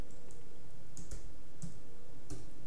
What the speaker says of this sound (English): And you just start typing